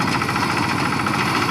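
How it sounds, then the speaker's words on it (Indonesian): A rice threshing machine engine runs steadily at close range after soybean harvesting, a dense continuous mechanical chug and rattle with no voices. "erek padi yang biasa kita gunakan untuk mengerek padi"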